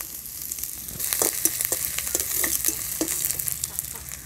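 Onion, ginger, garlic and green chillies fry in a hot pan for a Bengali snack, a continuous sizzle overlaid by repeated close scraping stir strokes in an uneven rhythm, moderately loud with nobody talking.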